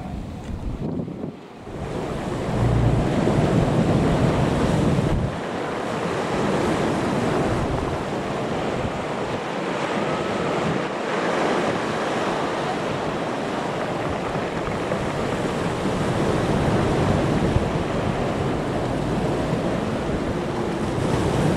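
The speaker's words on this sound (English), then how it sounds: "It's going to be a blowy, very blowy" Strong blustery wind buffeting the microphone at the seaside, with waves and surf roaring underneath in a loud, continuous wash that barely eases across the whole stretch.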